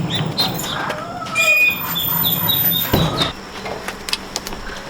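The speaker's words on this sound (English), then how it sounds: "He hears birds squeaking right now and he is dying to go after them." Small birds squeak and chirp in thin, high bursts over a busy outdoor farm background with shuffling and rustling, the calls close and scattered across the whole stretch.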